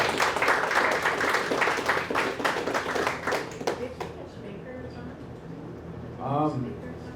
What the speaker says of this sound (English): I'm going to ask you to clap again just for the topic